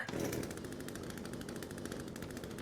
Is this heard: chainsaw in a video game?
yes